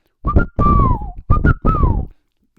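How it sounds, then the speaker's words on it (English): A person whistles four clear notes in two pairs, each pair a short rising tone followed by a longer falling one, loud and close with no talking. "Small gave the appropriate whistle commands"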